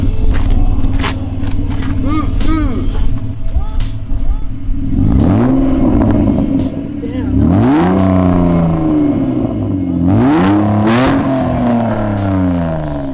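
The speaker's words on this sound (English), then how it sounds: "So the basic exhaust we're using is a MagnaFlow exhaust" A BMW E36 fitted with a MagnaFlow exhaust idles with a low rumble, then is revved several times in rising and falling bursts, loud and close to the tailpipe.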